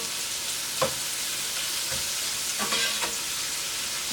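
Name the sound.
shrimp frying in a pan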